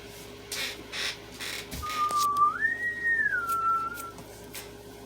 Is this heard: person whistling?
yes